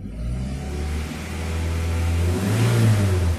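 A 2011 Daihatsu Xenia engine revs up as the throttle is pressed, a close, loud mid-pitched drone rising steadily in speed and pitch, heard alone without talk.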